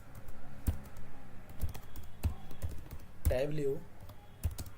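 Quick clusters of crisp key clicks come from a computer keyboard while someone speaks briefly over the typing.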